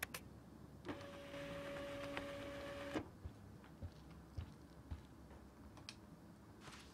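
Printer in Life is Strange whirring through a print job, a two-second motorized hum with a clicking start and abrupt stop, followed by quieter scattered ticks and clacks.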